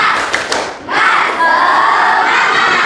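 Classroom of children doing a rhythmic spirit clap, a few sharp claps followed by a loud group shout that rings on, crowd-like and close.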